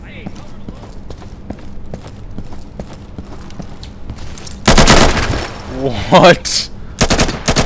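Gunfire in the video game Insurgency: scattered single shots ticking along, then loud bursts of automatic fire and another quick burst near the end, close and sharp, with players shouting over it.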